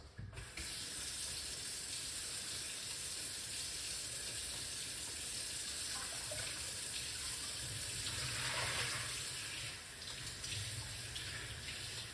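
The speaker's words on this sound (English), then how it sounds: "Let's wash off the ingredients, what we are going to use." Ingredients for a home drink remedy are rinsed under a running tap, a constant close rush of water with small shifts in tone as items pass beneath the stream, and no voices.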